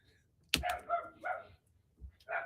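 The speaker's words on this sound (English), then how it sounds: "Oh, I hear my puppy." A puppy barks outdoors in a handful of short, sharp yips spread across a quiet indoor room, the first loudest and the later ones softer and more distant.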